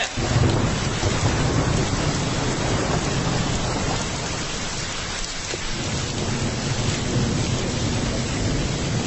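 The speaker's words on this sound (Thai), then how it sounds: "ฝนตกลงมาจริงๆด้วย" Heavy rain pours with thunder, a dense, loud, unbroken downpour with deep rumbling underneath that holds steady throughout, with no voices.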